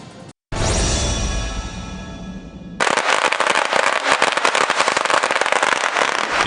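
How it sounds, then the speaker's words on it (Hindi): A loud crackling, fizzing burst follows a brief silence, then a harsher, sustained sputtering roar of a Diwali firework rocket launching nearby. "ये रॉकेट है। आग लगाते ही मानो आसमान में छेद करने निकल पड़ता है।"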